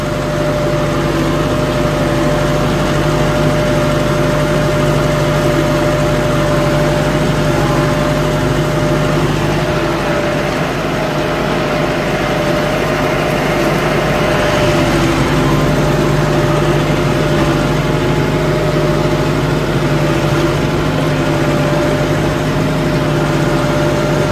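A New Holland Workmaster 105 4x4 tractor with a 106 HP engine runs steadily at a loud, even idle-like drone with a low throb and constant hum, close to the microphone and with no talk over it.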